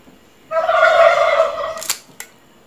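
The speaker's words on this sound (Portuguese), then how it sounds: "Esses meninos que querem aparecer no vídeo o tempo inteiro, os perus." Turkeys let out one loud, close gobbling burst lasting over a second, then two sharp clicks follow. No one speaks.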